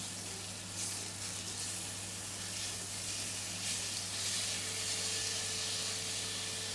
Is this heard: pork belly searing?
yes